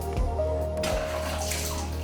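Water sloshes and splashes steadily as villagers in Balod, Masbate fetch drinking water, a close, continuous wash with no voices.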